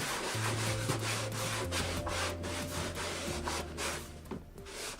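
An alcohol-soaked paper towel rubs over the rough plastic hull of a Tarpon 120 kayak to clean it. The result is a close, quiet run of repeated scrubbing strokes with steady back-and-forth friction and no voices.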